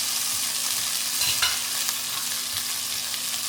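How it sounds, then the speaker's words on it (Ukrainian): Spinach and golden-browned onions fry in a pan with a steady, close sizzle and the occasional scrape of stirring, continuous across the whole stretch with no voices. "Цибуля почала золотитися, додаємо шпинат і також злегка його підсмажимо"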